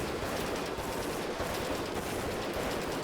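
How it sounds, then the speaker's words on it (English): Sustained SMG fire in the prison-management game Prison Architect, rounds hosing benches and radiators; a dense, continuous rattle of shots with impacts, steady and loud throughout with no pauses. "they're shooting the benches and the radiators"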